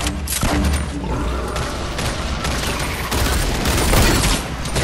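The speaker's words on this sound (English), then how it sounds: "Guys, grenade on them, grenades." Grenade explosions and bursts of gunfire in a Fortnite squad match, a dense, continuous barrage of booms and rapid shots lasting throughout with no pauses.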